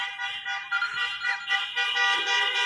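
Car horns blare in a dense, overlapping chorus at an Arabic wedding in Qatar, sustained honks layered together without pause, loud and fairly close.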